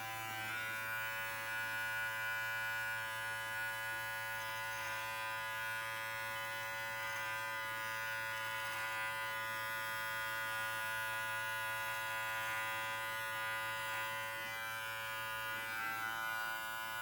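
A Brio Beardscape electric beard trimmer runs steadily through a beard, giving a continuous close, fairly quiet motor buzz with a fixed hum that holds unbroken from start to finish, with no talking.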